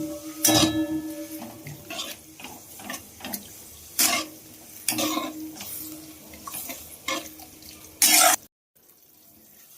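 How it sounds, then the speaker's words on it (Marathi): Grated potato is mixed into boiling water with a spoon, making repeated sloshing, scraping strokes against the pot in an uneven rhythm, with several louder splashy bursts before a sudden stop. "आता हा बटाटा आपल्याला व्यवस्थित मिक्स करून घ्यायचा आहे"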